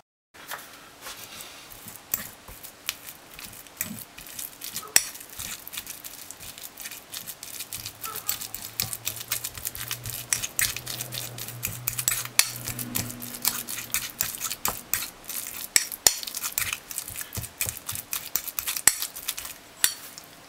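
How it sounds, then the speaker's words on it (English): Utensils scrape and clack against a bowl while mashing bananas, in irregular bursts, soft squishing and tapping sounds repeating close by. "Mash the bananas."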